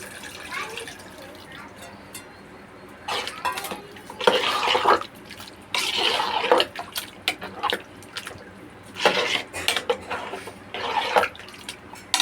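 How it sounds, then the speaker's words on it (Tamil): Tamarind water, thickly dissolved, poured into a pot while cooking chicken biryani, giving bursts of splashing liquid and clinking against the vessel, fairly close, with no talk. "இப்போ புளி தண்ணி சேர்த்துக்கலாம்."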